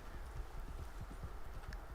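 Horse hooves clip-clop at a steady trot in the Red Dead Online video game, a soft, even rhythm of repeated hoofbeats under low ambient rumble, with no talking.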